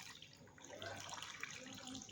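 Warm water streams steadily from a container onto instant noodles on a plate, a faint, continuous splashing trickle with no talk.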